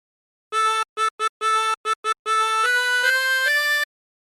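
Tremolo harmonica playing the tune of What Shall We Do With the Drunken Sailor, a run of short detached notes followed by longer held ones, bright and reedy, close and alone with no talk.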